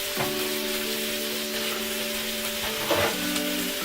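Cashews and tomato sizzle in hot oil with cardamom, clove and cinnamon for shahi paneer, a steady close frying hiss with faint crackles and brief stirring scrapes, no voices.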